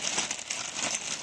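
A plastic bag holding hand tools and wire brushes is handled, giving a continuous close crinkling and rustling with soft crackles, alone without talk.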